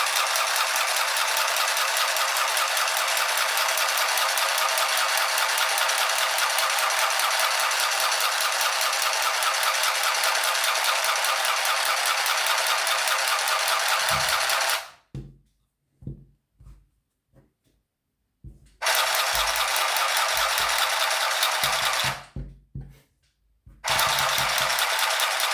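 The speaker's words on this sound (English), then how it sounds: "It is too hard for this sewing machine." An Easymaxx handheld sewing machine runs with a steady rapid buzzing whir for about fifteen seconds, stops with a few clicks and knocks, restarts, then halts and starts again, all close up with no talking.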